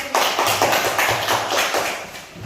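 A classroom of students claps for a group, a rapid, even run of hand claps that is close and lively, lasting a couple of seconds before tapering off.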